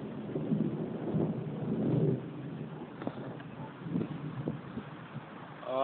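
Thunder from a nearby storm rumbles in low, rolling swells, loudest in the first couple of seconds, then subsiding with a few softer cracks and rumbles later on.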